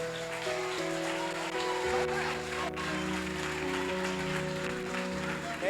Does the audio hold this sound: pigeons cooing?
no